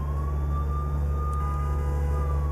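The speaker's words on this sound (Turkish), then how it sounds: "Aç siren." A truck siren in Euro Truck Simulator 2 wails continuously as a steady, loud tone over the deep rumble of the truck engine, with no talking.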